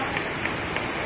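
Steady rain patters down in a dense, even hiss, close by, with a few slightly louder drops standing out.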